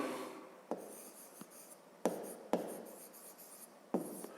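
A pen scratching across paper while working a fifth-grade math exercise, quiet steady scribbling broken by several sharp taps and strokes, close and faint with no talk.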